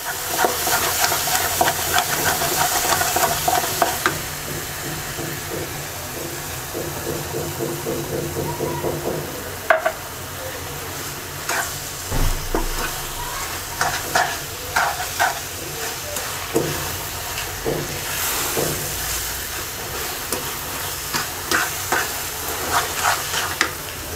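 Olive chutney with sugar cooking in a pan, a loud bubbling sizzle followed by repeated spoon scrapes and stirring knocks in an irregular rhythm, close up.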